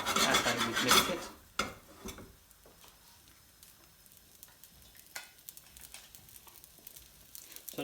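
Lamb biryani being gently stirred in a new pan, giving scraping, rasping strokes with a light sizzle, loudest in the first second or two and then settling into quieter, scattered scrapes.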